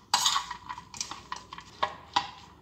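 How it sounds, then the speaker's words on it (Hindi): Fried okra being mixed with fried onion and lemon juice, heard as a few sharp spoon-against-pan clinks and scrapes in an irregular rhythm, close and clear in a quiet kitchen. "अब इसको बहुत अच्छी तरह मिक्स कर देंगे"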